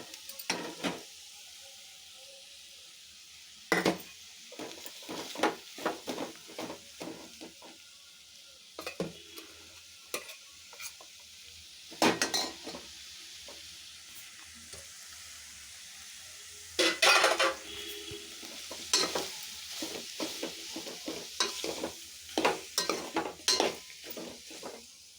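Leftover rice stir-fried in a pan gives a steady sizzle, broken by repeated sharp scrapes and clinks of a spoon against the metal as it is tossed, with a few louder bursts of stirring and no talk.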